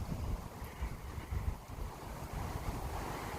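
Gusty wind buffeting a microphone outdoors at an RC airplane flying field, a continuous low rumbling roar that swells and dips with the gusts, with no voices over it.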